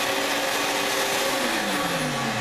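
A Bio3Blaster Rugged Pro Series ozone generator blows gas out as a steady, loud, close whooshing rush of air with a motor whine, unbroken for the whole stretch.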